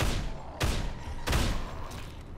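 Gunfire in the video game Dead Island: two or three heavy, booming shots ring out a beat apart, each followed by a short rumbling tail, loud and close.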